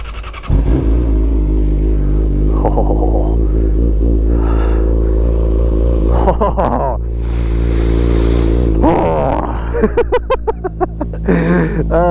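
A Yamaha R6 motorcycle starts up and idles loudly close by, with a steady engine drone and several sharp revs near the end, while a rider talks over it.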